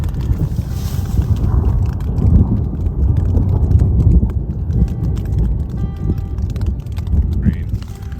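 Loud, rumbling wind gusting outdoors, a constant low roar buffeting the air for several seconds.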